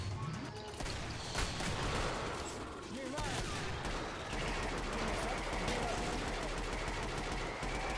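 Dense rapid gunfire in the co-op shooter Killing Floor, continuous bursts and overlapping shots that fill the whole stretch loudly, with someone talking underneath.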